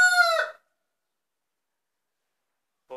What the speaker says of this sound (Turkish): yine bazı takipçilerimiz horoz sesinden rahatsız oluyor.